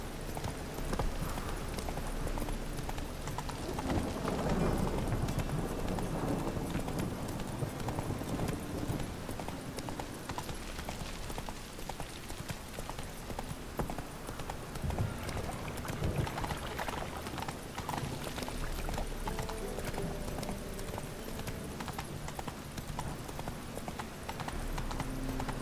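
A horse's hooves pound in a fast, continuous rhythm for a long stretch, mixed with a steady wash of background sound from The Witcher 3: Wild Hunt.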